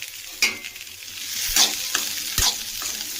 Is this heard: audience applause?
no